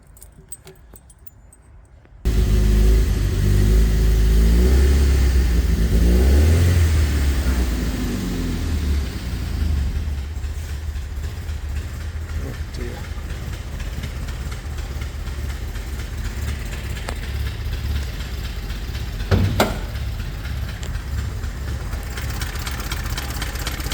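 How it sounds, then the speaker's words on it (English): An Alfa Romeo stepnose project car engine, freshly rebuilt and in its run-in period, starts after a brief quiet moment, then idles loudly and steadily close by, with a slight revving change and a small clunk later. "Probably shouldn't let it idle too long, especially during the run-in period like this, and with lots of oil pressure."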